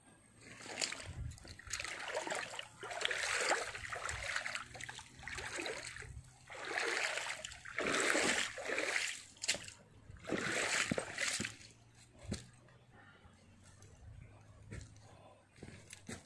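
Water rushes and splashes in repeated surges, loud and close, with a steady low hum underneath and quieter stretches of flowing water between.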